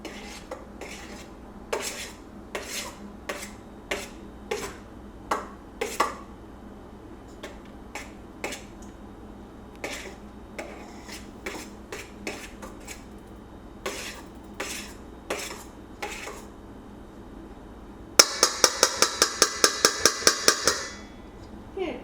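Metal spoon clinking and scraping against a bowl while folding almond mixture into macaron batter, with irregular taps that quicken into a rapid burst of bright clicks near the end, close up and fairly quiet.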